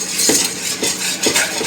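A spoon is stirred vigorously through thick tomato sauce in a pot, making rhythmic scraping, clinking strokes roughly every half second, close up and without talk.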